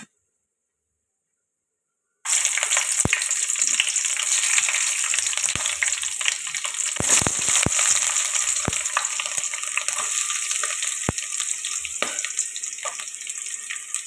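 Green chillies and chopped onions hit hot oil with garam masala for prawn pulao, bursting into a loud, steady sizzle after a couple of seconds of silence, with occasional sharp crackles and spoon clicks throughout.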